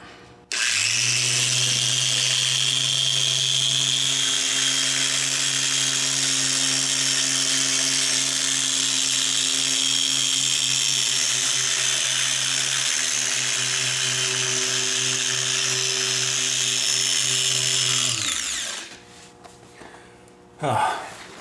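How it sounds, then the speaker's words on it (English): A car polisher spreads polish across the paint of a 1997 BMW E36 M3 sedan, a steady, loud whirring drone with a constant pitch that holds for about eighteen seconds before winding down, followed by brief handling noises. "I usually spread this polish around before I turn the polisher on"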